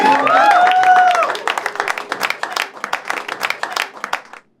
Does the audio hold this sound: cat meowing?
no